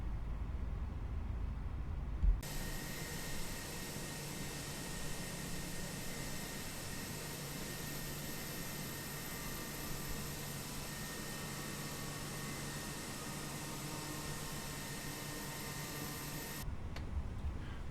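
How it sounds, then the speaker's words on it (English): Airbus A320 engine spooling up during startup in the Fenix flight simulator game, a steady broadband roar with a faint whine, sustained evenly before cutting off abruptly. "I'll let you enjoy the sounds of the engine startup."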